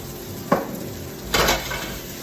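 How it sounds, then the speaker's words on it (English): Mushrooms seasoned with salt and pepper sautéing in a pan for mushroom risotto, soft sizzle under two sharp clanks of a utensil stirring against the pan. "we're going to saute that mushrooms off"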